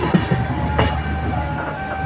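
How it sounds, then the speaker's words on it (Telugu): A passenger train pulling into Vijayawada station, with a low steady rumble of rolling carriages, a brief clank partway through and faint tonal hum, no speech. "మనం ఎక్కిన ట్రైన్ అయితే విజయవాడకు వచ్చేసింది"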